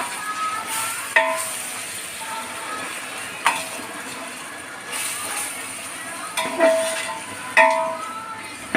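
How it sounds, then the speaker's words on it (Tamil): Two hundred grams of ginger-garlic paste fries in a large pot for a wedding biryani, giving a steady sizzle with occasional clanking stirs of a ladle against the pot, while a voice speaks now and then. "200 கிராம் இஞ்சி பூண்டு. இது கொஞ்சம் வதங்கணும் இன்னும்."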